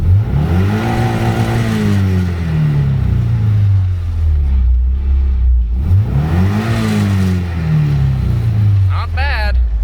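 A truck drives past on a rural road while a restored Nissan S13 sits waiting: rising and falling engine drone sweeps by close, followed by another passing vehicle, loud and continuous.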